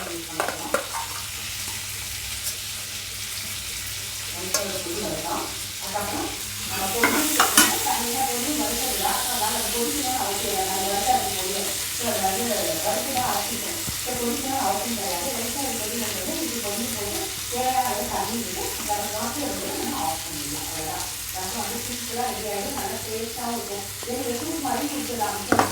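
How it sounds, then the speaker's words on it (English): Chopped onions sautéing in a pan for an onion and tomato chutney with dal, giving a steady, moderately loud sizzle with faint stirring scrapes throughout. "I'm going to saute my onions first."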